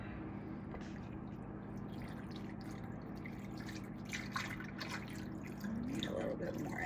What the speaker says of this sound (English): now we're gonna cover that with, just barely cover it with water